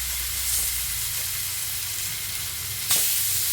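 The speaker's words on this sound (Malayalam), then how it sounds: "ഈ ഒലിവ് ഓയിൽ ഫ്രൈ ചെയ്യുമ്പോൾ ഇനി ഒരു വശം നന്നായിട്ട് മുരിഞ്ഞു കഴിയുമ്പോഴേക്കും അടുത്ത വശം കൂടി മറിച്ചിട്ടിട്ട് നന്നായിട്ട് മുരിച്ചെടുക്കും" Kingfish slices sizzle in hot olive oil in a pan, a continuous bright crackling hiss with a brief louder spatter near the end, close and steady with no talking.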